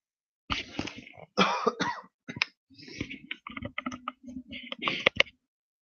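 A few sharp coughs break up quiet talking, with light clicking sounds scattered between the bursts.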